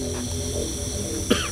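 A single short cough lands near the end of a quiet indoor stretch with a faint steady background hum.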